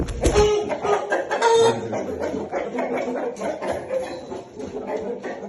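Chickens clucking in a pen at a poultry market with someone talking over them, a hen giving short throaty clucks and a brief rising call close by amid background murmur.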